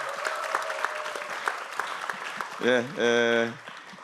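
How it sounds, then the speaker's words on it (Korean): An audience at a panel discussion event claps steadily for a lawmaker, a dense wash of applause, followed near the end by a loud spoken voice over the top. "크게 우리 안 의원님께 박수 한번 보내주십시오."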